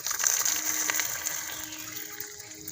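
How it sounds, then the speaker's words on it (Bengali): Hot caramel is poured into a pudding bowl, a quick, liquid gushing sound that is fairly close and moderately loud, easing off toward the end. "যাতে পুডিংটা বানাবো তাতেই ক্যারামেলটা ঢেলে নিচ্ছি"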